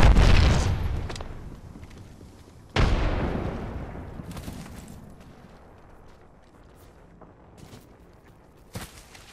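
A frag grenade blast in Apex Legends booms loudly and decays into a long rumble, followed by a second heavy explosion and fainter distant bangs, with no talk.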